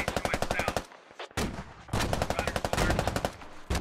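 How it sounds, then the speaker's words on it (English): A medium machine gun fires in long rapid bursts in the military shooter Squad, loud and close, with a brief gap and a sharp crack before the firing resumes. "Wow, really nice MG fire."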